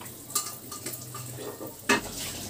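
Whole fish pieces fry in a wok packed full of oil, a low steady sizzle running throughout with two sharp clatters of a utensil against the pan, one near the start and a louder one near the end; no one speaks.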